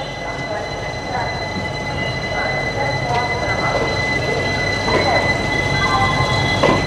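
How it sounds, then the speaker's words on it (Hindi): A passenger train hauled by a WAP-5 electric locomotive pulls out of platform 1 at Indore Junction, wheels rumbling and squealing over steady rolling noise with faint clatter, heard from on board and holding fairly loud throughout. "हम लोग अब चल चुके हैं इंदौर जंक्शन से, प्लेटफॉर्म नंबर 1 से हमारा डिपार्चर हो रहा है"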